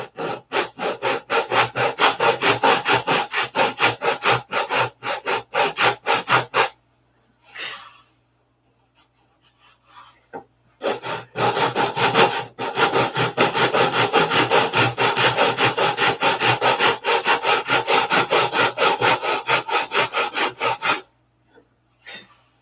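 Wood being sanded by hand on the nose of a model built with 1/64-inch plywood: two long runs of fast, steady back-and-forth rasping strokes, close and loud, split by a short pause with a faint scrape.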